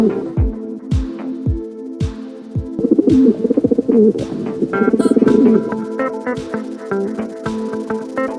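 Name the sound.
pigeon cooing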